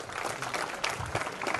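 Applause from a college function audience right after a speech at an engineering and management college, a steady dense patter of many hands clapping throughout, fairly loud and close, with no talking over it.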